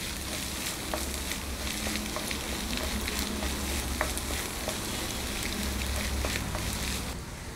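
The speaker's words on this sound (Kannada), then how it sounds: "ಮೀಡಿಯಮಲ್ಲಿ ಇಟ್ಕೊಂಡು ಚೆನ್ನಾಗಿ ಹುರ್ಕೊಳ್ಳೋಣ ಮೊಟ್ಟೆನ." Eggs fry in a pan over medium heat for egg rice, a steady close sizzle with scattered pops and crackles and a few stirring scrapes running unbroken for the whole stretch, no voices.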